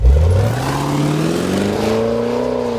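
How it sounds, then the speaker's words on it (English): A Jaguar F-Pace performance SUV engine revs up in one loud, close, continuous climbing roar that holds at a high pitch. "the Jaguar F-Pace, a performance SUV with the DNA of a sports car"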